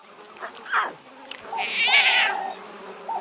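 Big cat cubs call for their mother with a few short mewing and chirping cries, one longer wavering call near the middle, heard fairly close over a steady insect-like background hiss.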